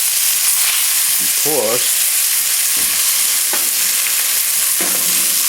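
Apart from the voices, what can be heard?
vegetables frying over high flame with garlic chicken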